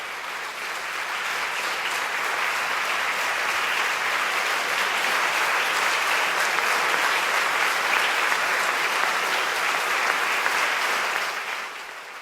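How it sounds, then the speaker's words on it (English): Prolonged applause from a standing congregation inside Trinity Church: a thick, sustained roar of many people clapping, reverberant and steady for about twelve seconds, tapering slightly at the close. "And when the applause eventually subsided"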